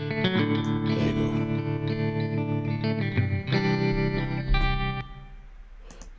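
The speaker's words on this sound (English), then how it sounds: "this beautiful reverb that you're hearing is coming from Silver" Electric guitar through a Fender-style tremolo amp with a lush reverb plugin, sustained chords and notes blooming into a long, spacious wash that trails off at the end, fairly loud and without talk.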